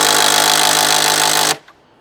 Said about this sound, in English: So all I have to do is just use a drill,